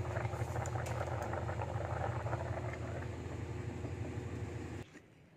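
A covered pot of paksiw fish stew simmers steadily, a dense low bubbling and patter that holds for most of the stretch before dropping away abruptly near the end.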